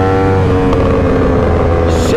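A Yamaha R1M sport motorcycle engine roars loudly and steadily, its pitch rising and dropping with quick shifts and downshifts, with no voices over the sound.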